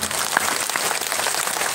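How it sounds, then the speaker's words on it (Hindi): An audience claps steadily in greeting at a Shrimad Bhagavat Katha religious gathering in Mithila, Darbhanga, a dense continuous patter of many hands with no pauses. "ताली बजाकर अभिवादन करते हैं।"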